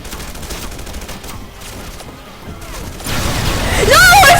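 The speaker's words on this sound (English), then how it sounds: "this entire bridge is obliterated" Explosions and destruction bring down a bridge in the video game Red Faction Guerrilla, with rumbling blasts and crashing debris that swell louder toward the end, alongside some game noise.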